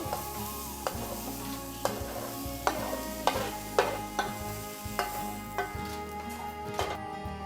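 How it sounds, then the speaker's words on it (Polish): Steady scraping and stirring in a pot as fried pumpkin is mixed into risotto rice, with a soft sizzle beneath, a spoon knocking the rim every second or so. "Podsmażoną dynię przekładam do ryżu."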